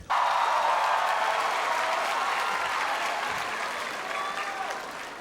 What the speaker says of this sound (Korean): 박자를 맞추면서 박수를 치는 거예요.